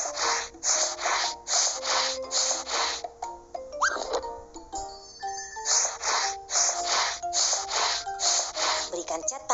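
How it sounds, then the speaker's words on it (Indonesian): Cartoon sandpaper rubbing back and forth over rough wood in a children's building game, a steady series of short bright scraping strokes with playful chime effects in the middle. "Gunakan amplas untuk menghaluskan kayu yang kasar."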